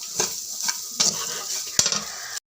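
Potato rice stirred in a pan with a spoon, giving soft scraping strokes at an uneven rhythm over a faint sizzle, close up, with no talking.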